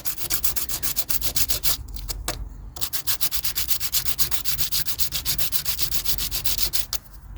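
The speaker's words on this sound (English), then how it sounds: "we got our piece of emery cloth right here, and we're just going to scratch it like we are a lottery ticket" Emery cloth is rubbed hard against a corroded washer or nut, a close, rhythmic back-and-forth scratching of quick repeated strokes with a couple of short pauses, no voices.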